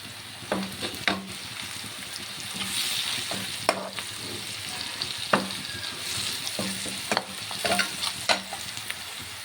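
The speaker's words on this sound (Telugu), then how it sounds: "ఆనియన్ గోల్డెన్ కలర్ వచ్చే వరకు ఫ్రై చేశాను" Onions and spices fry in a pan with a steady close sizzle. A spatula scrapes and clacks against the pan again and again as the mixture is stirred, and no one speaks.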